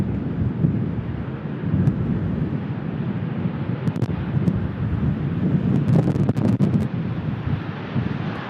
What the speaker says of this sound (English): It's definitely gusty.